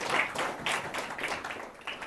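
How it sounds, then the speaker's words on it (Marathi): A church congregation claps hands in a steady rhythm of repeated broad bursts, moderately loud and close, with no voices over it. "टाळ्या वाजवून देवाला धन्यवाद"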